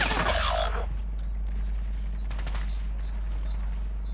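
A loud burst of gunfire in Call of Duty: Warzone at the start, then a steady low rumble with faint mechanical clicks and rattles.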